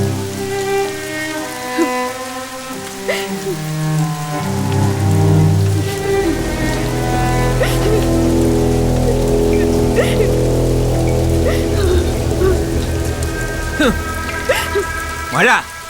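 Heavy rain pours with a dense, loud patter throughout, mixed with sustained tonal sounds and voices underneath.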